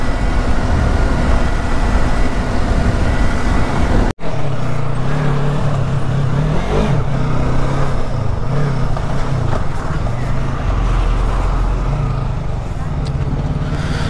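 A vehicle is driven over a potholed road in Nagaland on the way toward Dimapur, its engine a loud, continuous low rumble with road roar, a sudden brief dropout early on, then shifting gear-like tones.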